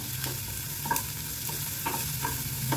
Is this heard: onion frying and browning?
yes